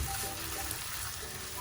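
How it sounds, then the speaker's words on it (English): Prawn curry ingredients sautéing in a pan over a medium-high flame, a soft continuous sizzle, fairly quiet and steady. "saute this for 2-3 minutes"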